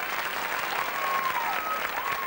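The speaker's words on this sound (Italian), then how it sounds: "Un bellissimo applauso a questi ragazzi bravissimi." An Italian television studio audience gives a continuous round of applause for a young choir, an even wash of clapping throughout with faint whistles and cheers above it.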